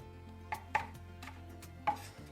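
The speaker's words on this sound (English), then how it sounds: "Once you remove the skins, just give that a nice mince." A knife minces a peeled ingredient for guacamole on a cutting board, with several distinct, fairly close chops at irregular intervals against a quiet background and no speech.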